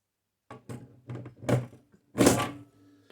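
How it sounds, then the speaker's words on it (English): The carriage of a Torpedo Dynacord S typewriter is fitted back on with a series of close, heavy metallic thunks and clunks, ending in a firm louder knock. "So I'm gonna put the carriage back on this thing."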